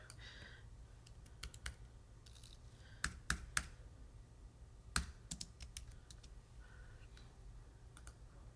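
Computer mouse clicks while working in Cricut Design Space, sparse sharp clicks, some in quick pairs like double clicks, scattered over a quiet room background, close and faint, with no talking.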